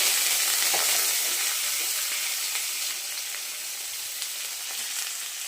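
Steady, even sizzle of onions frying in oil, a continuous hiss that softens slightly over time, with faint stirring clicks and no talking.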